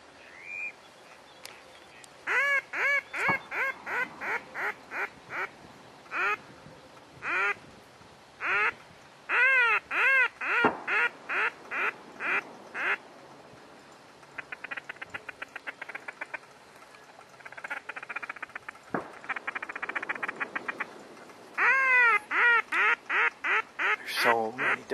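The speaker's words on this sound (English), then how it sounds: "There's so many ducks." Many ducks on a hunting refuge quack in repeated loud bursts of nasal calls, close and overlapping, with short pauses between volleys and occasional other bird cries.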